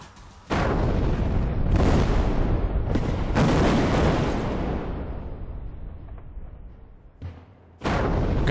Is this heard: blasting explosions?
yes